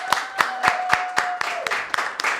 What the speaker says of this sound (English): Can we give a round of applause for the crowd that's with us today?